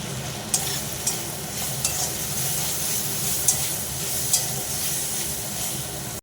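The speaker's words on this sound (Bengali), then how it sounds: "একটু জল দিয়ে দিলাম, ভেজে রাখা বড়াগুলো দিয়ে দিলাম।" Fried lentil fritters cook in a pan with water for a ridge gourd curry, producing a steady bubbling hiss punctuated by several sharp, regular clicks of a spoon against the pan.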